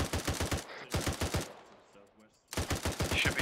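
Arma 3 gunfire comes as rapid machine-gun bursts of sharp, evenly spaced shots. A pause follows with a brief faint voice, then another loud burst.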